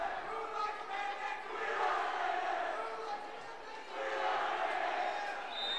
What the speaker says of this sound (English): as the student section getting into it, they cheer